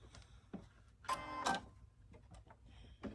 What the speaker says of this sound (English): we'll go to the sewing machine and just sew straight across there